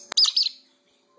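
A wet pet bird lets out a sharp click followed by a quick, bright double chirp, close and clear, then falls silent in a quiet indoor room.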